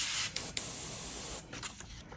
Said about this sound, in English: I spray it lightly.